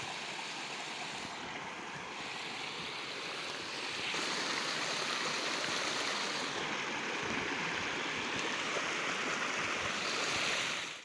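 Streams brimming after a night of rain pour along in a steady, broad rushing wash that grows slightly louder partway through, with no voices.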